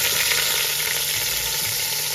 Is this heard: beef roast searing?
yes